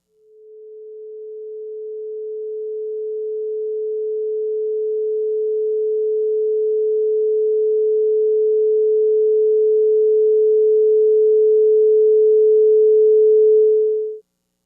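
A pure 432 Hz sine tone sounds steadily on its own, fading in smoothly, holding a constant pitch and gradually swelling in loudness before cutting off abruptly near the end.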